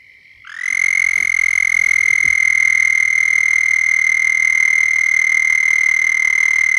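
A small frog or toad gives one long, steady, high-pitched trill, faster and higher than an American toad's call. It sounds close and clear against a faint low hum.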